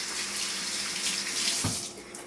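Tap water runs steadily into a kitchen sink while egg is rinsed off hands during Yorkshire pudding batter making, a continuous close splashing hiss with one brief clunk near the end.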